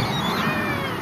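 A cat meows in one sustained, loud, close cry, set outdoors in Taif, Saudi Arabia.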